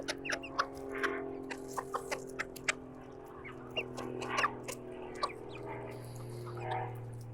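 A hen clucking to call the other chickens over to eat grubs, with repeated short clucks in an irregular rhythm over a steady low background hum, close and fairly clear.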